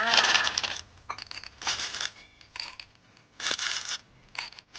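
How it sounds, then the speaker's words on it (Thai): Gravel poured over an Aglaonema plant in a glass pot, heard as several close bursts of small stones clattering and rattling against glass, with quiet gaps between pours. "หลังจากนั้นก็นำหินกรวดนะคะ ใส่ทับลงไปเลย"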